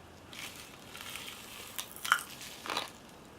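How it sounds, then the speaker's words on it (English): Cherry-flavoured Fizz Whiz popping candy crackling inside a mouth, a few soft scattered pops and fizzing snaps close up, quiet and alone with no talking. "Fizz Whiz, which is popping candy cherry flavour."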